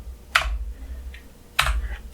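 Two separate, crisp keypress clicks land about a second apart on a computer keyboard while Java code is entered, close and fairly quiet, with a soft low hum underneath and nobody speaking.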